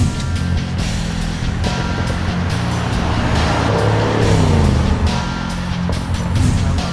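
A loud Audi RS sports car engine in dynamic mode roars steadily, revving and surging with a throaty growl throughout, no voices over it.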